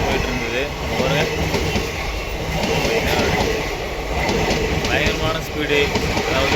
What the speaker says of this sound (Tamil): இந்த மாதிரி ஒரு வேகத்தில் இப்போ தான் நான் பார்க்குறேன் ரயில் போகிறது